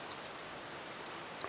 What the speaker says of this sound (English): Rain's really starting to pick up a little bit.